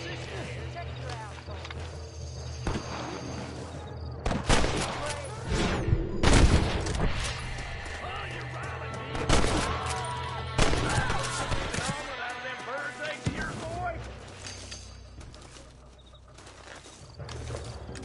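Gunfire rings out in the western game Red Dead Redemption, scattered loud shots and volleys over ambient music and bird sounds, with people talking throughout.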